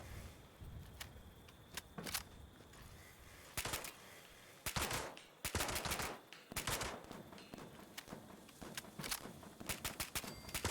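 Gunfire from weapons in the video game Fallout 76, repeated sharp bursts and single shots in irregular clusters, loud and close over a low background, without talk.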